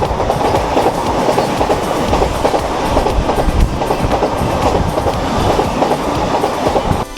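A Vande Bharat express train races past on an Indian railway line between Mumbai and Kerala, a loud continuous roar of rushing wagons with steady clickety-clack wheel rhythm filling the whole stretch, no voices.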